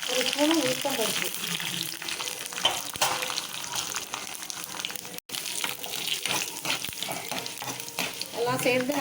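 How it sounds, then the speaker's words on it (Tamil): Oil sizzles and crackles steadily as mustard seeds, urad dal and dried chillies fry, with a few clinks of stirring throughout. "எல்லாம் சேர்ந்து நல்லா பொரிஞ்சு வரட்டும்."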